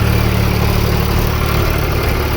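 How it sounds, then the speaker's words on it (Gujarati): A tractor engine running at a steady low, droning throb while levelling a dirt road, loud and close, with no voices. "આ બાજુ પણ ટ્રેક્ટર હાલે છે, આપણું ટ્રેક્ટર આ બાજુ છે"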